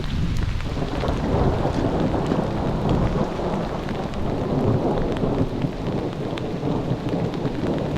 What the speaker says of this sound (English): We have another thunderstorm coming our way.